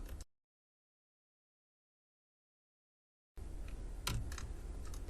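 Keys on a computer keyboard clatter in a quick run of taps as a Python print command is typed into the shell on a Raspberry Pi, starting after a long silence and continuing close and fairly loud to the end.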